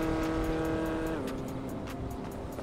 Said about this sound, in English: Is this freaking Infiniti making noise every morning